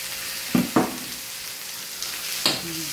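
Meat frying in a pan with browned garlic and onion for Ilocano buridibod, a steady near sizzle broken by a few sharp clatters of stirring or pieces dropping into the oil.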